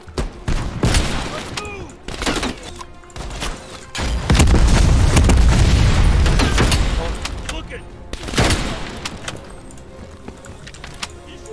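Bursts of automatic gunfire and booming explosions from the Call of Duty Cold War video game, loud and dense at times, with a player talking over parts of the action.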